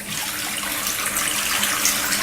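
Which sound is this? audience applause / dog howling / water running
water running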